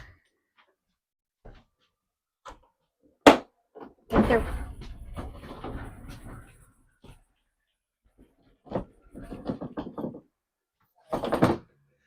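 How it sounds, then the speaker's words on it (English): The door of a Brinkley Model G 3520 bangs shut with a sharp thud after a pin is released, followed by rattling and scraping of hardware and a few scattered clunks. "shut the door."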